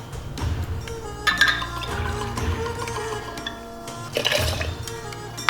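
Vodka pours into a cocktail shaker holding orange juice and triple sec, a close liquid trickle with a few light glassy clinks, most noticeable near the start and end.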